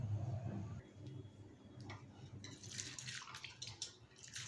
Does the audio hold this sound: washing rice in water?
yes